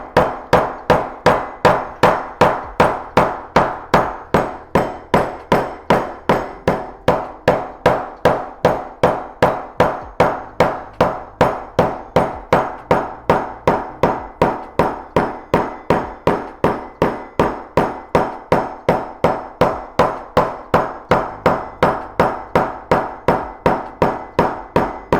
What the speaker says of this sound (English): I'm gonna be hammering this down next